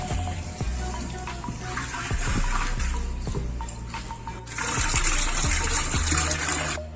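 Water poured from a vessel into potted plants at home, a splashing gush near the microphone with small knocks and handling sounds, growing fuller and louder in the last couple of seconds.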